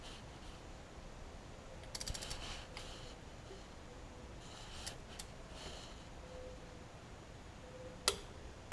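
A torque wrench turns a spark plug into a 2003–2011 Honda Element engine, tightened to 13 foot-pounds, giving faint, sparse ratcheting ticks and one sharper click near the end in a quiet space.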